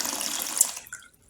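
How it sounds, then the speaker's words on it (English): A 12V DC pump switched by a relay from an ESP32 pushes out a short splashing gush of water, close and steady before cutting off abruptly, followed by a few faint drips. "Yes, now you can see it's pumping water."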